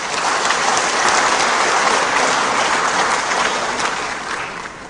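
Dense, sustained applause from a large crowd fills a political speech venue, a thick wash of clapping that holds steady and then starts to fade slightly near the end.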